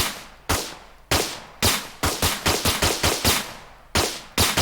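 Rapid gunfire from a weapon with procedural recoil in an Unreal Engine 5 multiplayer third-person shooter game, heard as a loud series of sharp shots, first widely spaced and then in quick bursts, with no talk.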